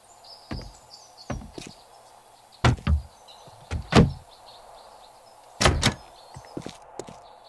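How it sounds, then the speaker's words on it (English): Repeated heavy blows against a door while trying to break it down in the survival game 7 Days To Die, irregular thuds and knocks spaced apart over a quiet background. "I can't even break the door down."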